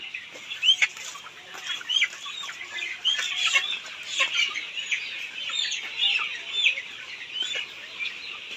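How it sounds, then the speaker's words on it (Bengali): Layer hens on a poultry farm cluck and squawk continuously, many birds at once from close to mid distance, with occasional wing flaps and no talk. "আমাদের কি পরিমাণ মুরগি আছে আসলে আমি দেখাচ্ছি আপনাদেরকে একটু"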